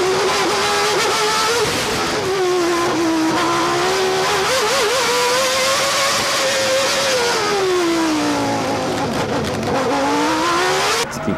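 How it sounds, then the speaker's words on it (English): Ayrton Senna's race car engine screams loud and close, its pitch rising and falling in wavering sweeps as the throttle is blipped through corners, with tire noise beneath. "Senna still continued this blip blip blip throttle technique."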